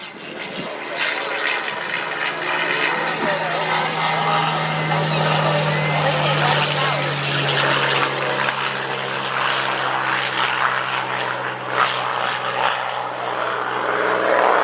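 A P-51 Mustang propeller fighter on its takeoff roll at an airshow, a loud sustained piston-engine drone with a deep steady throb that builds and holds throughout, under crowd ambience and a public-address announcer talking.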